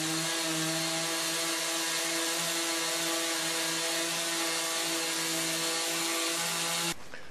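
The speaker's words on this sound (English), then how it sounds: "I'm gonna try to take my chainsaw and rough cut this radius" A chainsaw runs steadily at high revs for several seconds, loud and close, rough cutting a radius in wood, then cuts off abruptly at the end.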